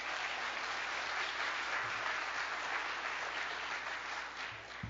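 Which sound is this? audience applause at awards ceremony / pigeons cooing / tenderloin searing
audience applause at awards ceremony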